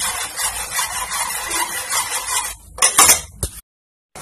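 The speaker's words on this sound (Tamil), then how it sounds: "ஒரு ஆப்பைய வச்சு நல்லா கிண்டி விட்டுட்டே இருங்க" Ragi porridge is stirred with a ladle in a pot, a continuous scraping swish with a few clinks of metal near the end before the sound cuts out abruptly.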